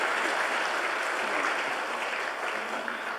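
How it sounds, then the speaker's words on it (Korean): A church congregation applauds award recipients during a Sunday worship service, a steady, full wash of many hands clapping together and filling the hall evenly throughout. "따뜻한 축하와 격려의 박수 한번 보내주시기 바랍니다"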